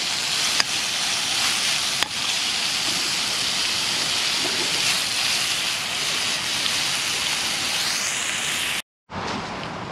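Pancake batter sizzles steadily in a pan at a rainy camp, a dense continuous hiss with a couple of faint clicks, cutting out abruptly near the end before resuming.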